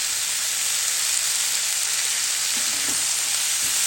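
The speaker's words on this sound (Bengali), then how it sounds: "বরবটি ভাজিটা করে নেওয়া যায়।" Yardlong beans fry in a pan with a loud, steady sizzle and hiss, and a few faint stirring knocks near the end.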